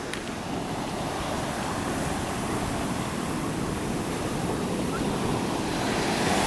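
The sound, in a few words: Pacific Ocean waves breaking on beach, Brookings, Oregon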